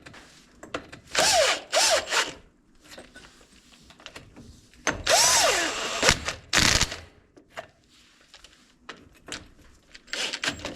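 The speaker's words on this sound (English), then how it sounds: "We'll just work it in with the impact ever so gentle." Impact wrench gently working a part onto threaded studs during a steering repair, several short close rattling bursts separated by pauses, with some faint talk in between.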